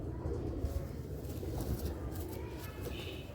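Pigeons kept by a fancier coo in soft, low, repeated notes over a steady background hum, with people talking nearby.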